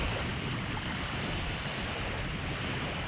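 Sea water at a sea turtle release spot, heard as a steady broadband wash of surf and waves mixed with some wind rumble, loud and constant with no voices over it.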